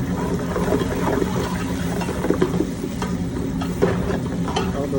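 Chopped onion frying in a pan for a Bangladeshi tomato fish curry gives a steady, dense sizzle with scattered soft stirring scrapes, close and continuous, with no talking.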